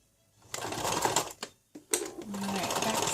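A sewing machine back-stitches through oilcloth in short close bursts of rapid mechanical whirring, stopping briefly between runs, with a faint voice underneath.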